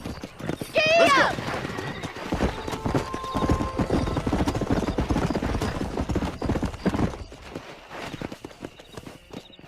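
Horse hooves clip-clopping at a quick gait in Red Dead Redemption 2, opening with a loud whinny and continuing steadily and close, with game voices talking over the riding.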